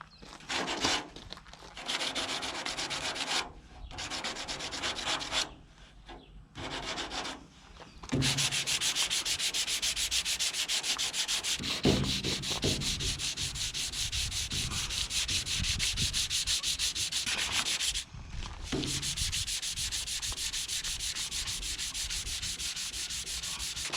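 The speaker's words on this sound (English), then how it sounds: "But let's now sand down this corner." Steady abrasive sanding rubs across a corner of 2010 Citroen Berlingo XTR car bodywork during preparation for painting, continuous and close with a few brief pauses early on.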